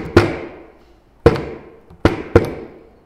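Four loud, sharp hits on buckets by a class drumming together, struck in unison with short ringing decays, irregularly spaced.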